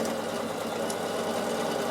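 A Bernina sewing machine straight-stitches a garment seam with a quick, even mechanical patter of the needle, steady and close throughout the short run, with no talk over it.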